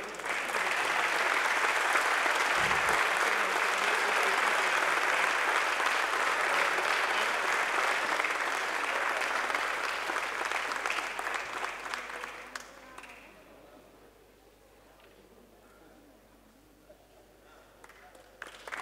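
Audience applauding at a local police award ceremony in Mogán, sustained loud clapping that carries on for about twelve seconds before fading to scattered claps and a quiet room.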